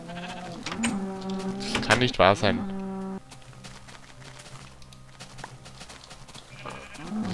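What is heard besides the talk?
sheep bleating in the video game Minecraft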